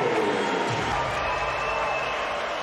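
A volleyball arena crowd cheers during the VakifBank Istanbul versus Eczacibasi Dynavit Istanbul Super Finals, a steady roar of voices and noise holding at the same level throughout, with a commentator's voice faintly mixed in.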